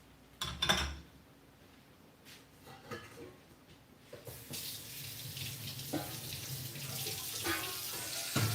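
Tap water runs into a pot of leftover hot pot soup sauce being melted down to boil vegetables, a steady close splashing flow with a few clinks and handling knocks before it.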